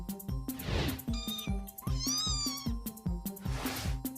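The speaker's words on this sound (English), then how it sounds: "I'm allergic to cats." A cat meows several times, drawn-out and wailing, near and clear over a rhythmic thumping beat that runs throughout.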